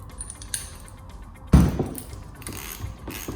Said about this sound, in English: I'm using a 6mm Allen key bit to undo the bolts.